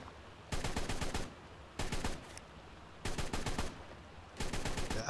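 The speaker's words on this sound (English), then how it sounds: "you could come in here and learn to shoot with controlled bursts and stuff like that" Four sustained bursts of automatic gunfire echo through an indoor shooting range in ARK: Survival Evolved, each lasting under a second with short pauses between, loud and close against a steady low background hum.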